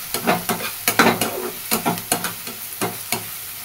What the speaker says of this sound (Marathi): मिरची पण आपली तळली जाते